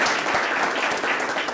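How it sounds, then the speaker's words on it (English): An audience at a press conference applauds in a brief, dense burst of clapping that stays steady and fairly loud throughout. "Can we get another round of applause?"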